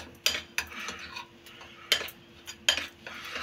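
Spiced lentil pizza batter is mixed with a spoon, sharp clinks and taps against the bowl at irregular intervals, close and fairly quiet with a faint steady hum behind.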